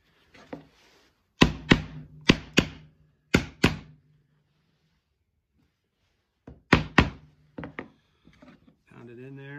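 Metal frets being hammered into cut slots on a handmade cigar box guitar neck: sharp, close wooden thunks come in quick groups of strikes separated by a quiet gap.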